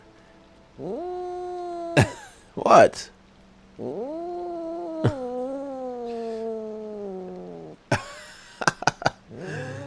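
A grumpy, fluffy pet cat yowls in long, drawn-out wavering cries, three main drawn calls with short bursts between, loud and close, while a person briefly speaks.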